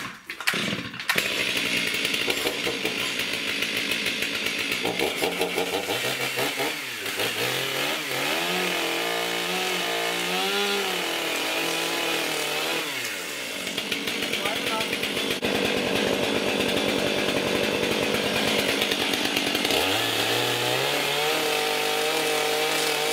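A brand new chainsaw runs loud and steady while cutting pipe into 30-inch lengths. The engine revs up and down through repeated cuts, with a brief drop in pitch partway through.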